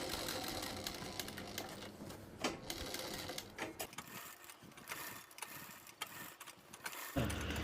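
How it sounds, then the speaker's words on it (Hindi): A sewing machine runs along a salwar seam with a fast, whirring mechanical hum, faint and somewhat uneven, with brief clicks and small handling noises. "जब तक हम ये सिलाई लगा रहे हैं"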